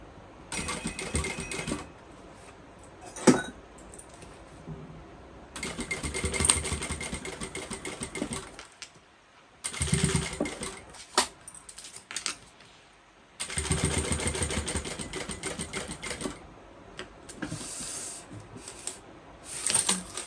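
A sewing machine stitches a bucket bag with no back stitching, running in several bursts of a second or more separated by quiet pauses and short clicks.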